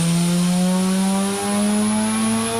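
A two-rotor rotary engine running at a steady high idle, a loud buzzing drone with strong even harmonics and a brief dip midway, heard close with no voices.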